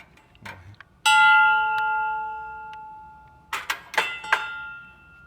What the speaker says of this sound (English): Is that a chimes of some sort?